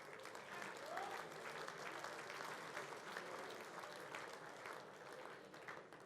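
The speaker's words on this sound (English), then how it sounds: "A round of applause for both those gentlemen" Audience applause at a football club's season awards night, a dense, sustained patter of many hands clapping at moderate distance, steady for several seconds without pause.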